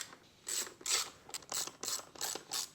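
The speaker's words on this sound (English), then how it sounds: "Now we can blast out all the airbox bolts and remove the cover to find even" A ratchet clicks in quick bursts while loosening airbox bolts on a 1990s superbike, several close, crisp ratcheting runs separated by short pauses.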